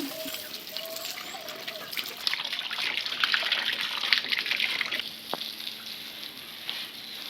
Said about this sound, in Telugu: ఫస్ట్ మేమైతే ఈ కూలర్ని వాటర్తో క్లీన్ చేసేసాం.